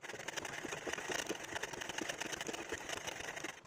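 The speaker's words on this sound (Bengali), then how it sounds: "তো এবারে এগুলোকে আমরা সেলাই করে নেব।" A sewing machine stitching pieces of fabric for a shawl collar top, running in one steady, rapid mechanical patter throughout, close and fairly loud with no pauses.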